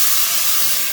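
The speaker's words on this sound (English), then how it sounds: "I'm just going to wait for that sizzling to slow down just a bit." Pigeon peas hitting a hot pot, a dense, even steam-like sizzle and hiss filling the whole moment at close range, no voices.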